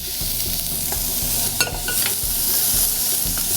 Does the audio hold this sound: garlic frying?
yes